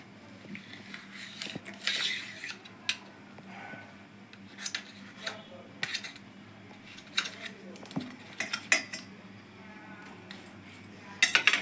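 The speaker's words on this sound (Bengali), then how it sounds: "ব্রেডটাকে আমি এইভাবে পিস করে নিচ্ছি, ত্রিকোণা আকৃতি করে কেটে নিচ্ছি।" A knife slices bread into triangular pieces for an egg-bread pakora, giving scattered light clinks and taps of the blade against a plate or board, spaced irregularly over a quiet kitchen background.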